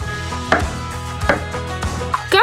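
Knife chopping garlic into large pieces on a board while cooking a whole bull leg roast, with several sharp, evenly spaced chops over a steady low background hum.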